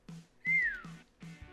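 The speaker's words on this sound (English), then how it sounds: "She glanced at the pot and whistled." A person whistles a short, bright phrase: a couple of quick notes, then a longer sliding tone that falls away, heard close and clear with no talking.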